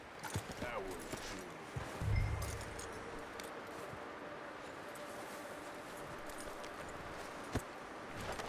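A horse is led along in the Red Dead Redemption 2 video game, with faint, irregular clip-clop hoofbeats and a soft thud, quiet and low in the mix.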